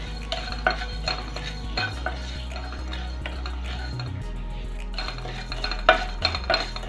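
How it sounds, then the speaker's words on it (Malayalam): Black pepper and cardamom dry roast in a pan, with scattered close clinks and scrapes of a spoon stirring against metal over a low steady hum. "ഇനി നമുക്കിത് ജസ്റ്റ് ആയിട്ടൊന്ന് ഡ്രൈ റോസ്റ്റ് ചെയ്തെടുക്കാം"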